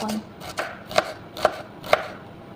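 Bitter gourd sliced with a knife on a board, four sharp evenly spaced chops about half a second apart, close and clear with no talking.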